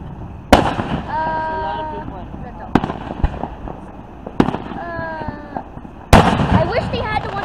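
Big, loud fireworks at a hometown display burst in several sharp booms, each followed by crackling and whistling trails, while onlookers talk over the show.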